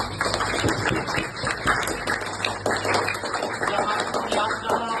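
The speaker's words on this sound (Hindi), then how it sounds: "और तालियों के लिए" Audience applause at an academy welcome event, a steady dense wash of clapping that holds loud and even for several seconds.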